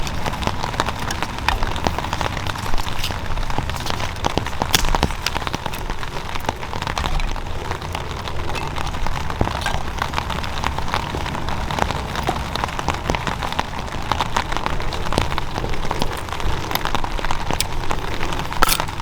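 Steady rain falls outdoors in the Pacific Northwest, a constant dense patter with scattered sharper drips on nearby surfaces throughout.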